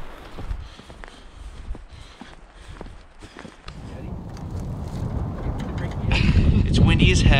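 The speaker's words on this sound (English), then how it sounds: "It's windy as heck." Gusty wind buffets the microphone outdoors on a western whitetail deer hunt, rumbling low and building louder toward the end, with footsteps and people talking beneath it.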